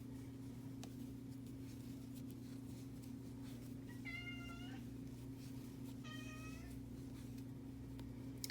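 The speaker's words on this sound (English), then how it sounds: "My kitty cat Zoe is wondering what I'm doing." A pet cat named Zoe meows twice, in short, fairly faint calls. The meows sit over a steady low electrical hum in a quiet indoor room.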